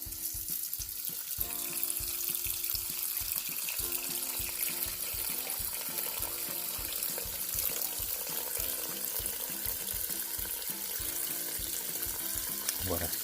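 Tap water runs steadily into a pressure cooker pot while making pho, a continuous rushing hiss mixed with low clunks and kitchen clatter, fairly close and filling the whole stretch.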